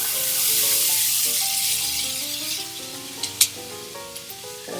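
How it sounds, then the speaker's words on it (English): Chopped onions hit a hot pan where chicken was just browned and set off a loud, steady sizzle that slowly eases, with light stirring clicks near the end and music playing underneath. "I'm going to go ahead and add some onions that I already have chopped up here."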